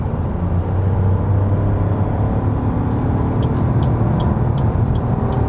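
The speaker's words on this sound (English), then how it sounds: "What about acceleration when we are already at speed at about 80 kilometers?" An Opel Astra accelerating on the German Autobahn from about 80 km/h, a steady, loud cabin drone of engine and road rumble holding throughout, with faint high ticks over it.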